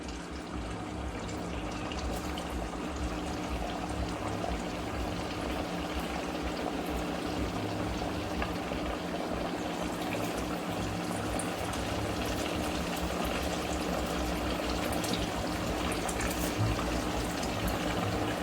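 Sabudana vada sizzling in hot oil, a steady, bubbling frying hiss that holds evenly throughout, fairly soft and uninterrupted.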